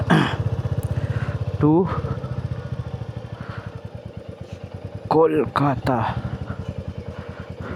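A motorcycle idles and revs close by at the start of a day's ride on a trip from Puri to Kolkata, with a steady pulsing engine throb and short throttle blips while someone talks over it.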